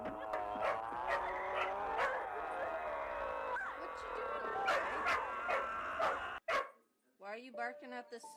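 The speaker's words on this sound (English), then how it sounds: "Why are you barking at the suit?" A dog barks and yips repeatedly at close range, its sharp calls mixed with people talking before the sound cuts out and whimpering sounds follow.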